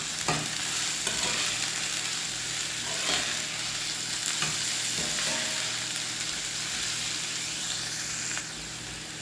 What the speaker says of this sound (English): I'm going to stir in the garlic